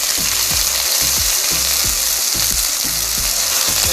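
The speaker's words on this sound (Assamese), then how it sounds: "এতিয়া মাংসখিনি আমি ইয়াত তেলৰ লগত ফ্ৰাই হ'বলৈ এৰি দিম।" Pork pieces frying in hot oil with onions already browned, a steady loud sizzle running throughout with repeated scraping stirs at a regular pace, close up, in a home-style Assamese pork dish.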